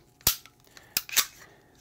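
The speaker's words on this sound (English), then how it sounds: "Now we can rack this all the way to the rear," The slide of a Sig Sauer P365 pistol fitted with a Tyrant CNC trigger is racked, giving three sharp, close metallic clacks in quick succession, the first the loudest, with no talk.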